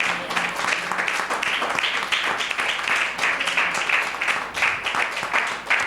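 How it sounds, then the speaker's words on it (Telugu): A church congregation claps loudly during a pastor's sermon to glorify God, a sustained crowd of hand claps with uneven, fluttering rhythm that swells and dips across the whole stretch. "గట్టిగా చప్పట్లు కొట్టి మహిమపరుచు దేవుండి"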